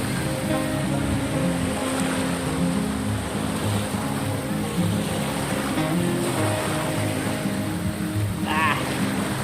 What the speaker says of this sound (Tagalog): Medyo maalo ng dagat pero ayos lang naman.